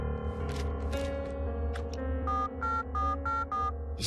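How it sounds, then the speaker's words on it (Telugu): A repeating electronic ringback tone pulses several times over a steady musical background, with short evenly spaced bursts toward the end. "రింగు వెళ్తుందయ్యా"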